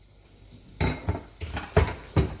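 Chopped onion and small cubes of capsicum being stirred in a pan for chicken manchurian, giving five loud metallic scrapes and clanks of the spoon against the pan at an uneven pace, with no talking.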